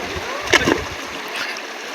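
Strong water current at a beach swirling and rushing steadily, with a couple of close splashes near the start, no talk.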